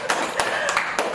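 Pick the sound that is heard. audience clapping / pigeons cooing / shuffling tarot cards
audience clapping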